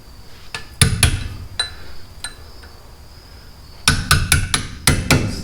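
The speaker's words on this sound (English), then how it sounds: "you don't want to hammer this in too much because it'll get stuck" Sharp metallic hammer blows drive a punch into a Mercedes W126 500SEL brake caliper, a few spaced taps and then a quicker cluster of ringing strikes, close and loud.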